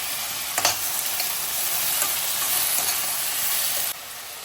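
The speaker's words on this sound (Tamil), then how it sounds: "அப்படியே வதங்கினதுக்கப்புறம் தக்காளி போட்டுக்கலாம். நல்லா வதங்கட்டும்." Onions and tomatoes sauté in a hot pan with a steady broadband sizzle, a few stirring scrapes, close by with no talk, dropping quieter near the end.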